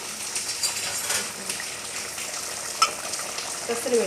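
Paneer goes into a pan of palak paneer over heat, bringing a steady close sizzle with scattered metallic clinks and stirring scrapes throughout.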